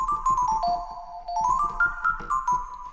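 Bright synth keys play a melodic phrase of short plucked notes with sustained tones in a beat production, clean and up front with a steady rhythmic pattern and no talking.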